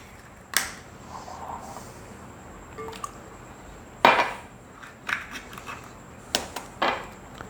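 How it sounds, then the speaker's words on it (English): Two eggs cracked into a chocolate pecan Coca-Cola loaf batter, heard as a few sharp isolated taps and clinks against a bowl spread across quiet pauses, with faint wet squishes after the strongest knocks. "The next thing I'm going to add is I'm going to add 2 eggs."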